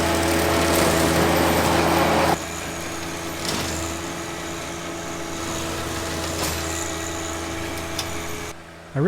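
A John Deere 1025R compact tractor engine runs steadily nearby, a loud droning hum that drops slightly in intensity partway through and holds at a constant idle-like level, with no talking.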